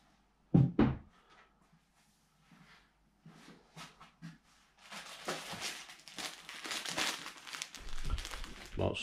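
A disposable paper protective suit crinkles and rustles as it is handled and put on during boat restoration work, starting with a few close bumps, then growing into a sustained, loud crumpling.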